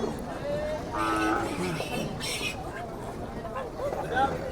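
Carabao (water buffalo) at a livestock market lowing in short tonal calls amid a busy outdoor crowd, with people chattering nearby throughout.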